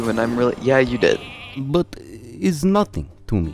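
A sheep bleat from the Hearthstone card game plays as a minion is polymorphed into a sheep, a short wavering baa heard alongside game character voice lines and talk.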